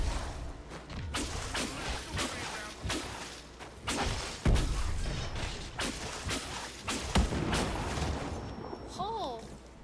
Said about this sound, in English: Big explosion.